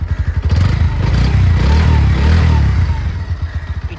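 A Pulsar NS 125 motorcycle's engine is blipped from idle into a loud rev, swelling and holding for about two seconds before dropping back to a steady, close-up chugging idle.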